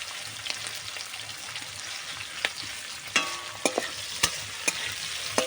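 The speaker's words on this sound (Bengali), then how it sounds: "রসুন আর কাঁচা লঙ্কা থেঁতি দিয়ে দেব, দিয়ে আর একটু নাড়ব" Crushed garlic and green chillies frying in a pan give a soft, steady sizzle, joined after a few seconds by crisp, close clicks and scrapes of a spatula stirring at intervals.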